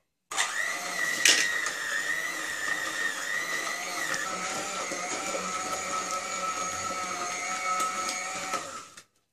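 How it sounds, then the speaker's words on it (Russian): An electric hand mixer whirs steadily as it beats butter and sugar into a fluffy mass for a Viennese cherry cake, a continuous close motor hum with one brief sharp clatter near the start and no talking. "всыпаем полностью весь сахар и взбиваем миксером"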